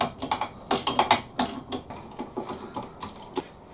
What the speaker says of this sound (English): It's the famous 13mm spanner.